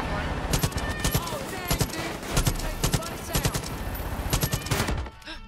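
Rapid bursts of automatic gunfire fired from a moving vehicle in Far Cry 5, loud and close, with a truck engine rumbling underneath before the shooting cuts off near the end.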